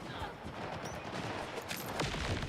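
Rapid bursts of grenade launcher gunfire crackle through a video game match, a dense, fairly quiet volley of repeated shots with brief louder pops near the end.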